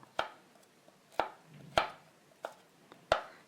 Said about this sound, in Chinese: 把胡萝卜先切片，